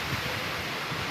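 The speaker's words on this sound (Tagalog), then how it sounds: "dito ayaw magpatigil ang hangin" Strong typhoon wind blowing steadily in a broad, continuous rush with gusty low rumbles, loud and close, with no voices over it.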